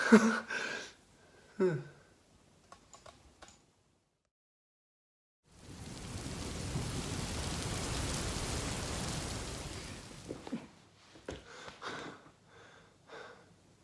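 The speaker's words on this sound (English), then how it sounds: "Got caught in a downpour." A heavy downpour roars for several seconds as a dense, steady wash of rain, framed by quiet breaths, sniffs and small movements before and after.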